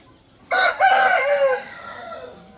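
A rooster crows once, loud and close, a strong harmonic call broken by a brief gap then drawn out and fading, with light background noise and no talking.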